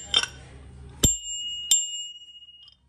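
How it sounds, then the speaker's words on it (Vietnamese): A bell on a vintage bicycle rings with two clear, bright dings about half a second apart, each ringing out and fading, after a brief rattle at the start. "Rồi cây này có chuông luôn ha."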